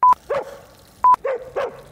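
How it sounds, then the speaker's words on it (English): A dog barks at an outdoor dog park, two short sharp barks each followed by a lower yelping call, repeating in a pair of bursts, fairly close and clear with no talk over it. "we're at this dog park here"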